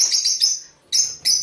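Pet birds flying around inside a house chirp in short, bright, high-pitched bursts: a quick series of tweets, a brief pause, then two more sharp chirps, close and clear with no talking.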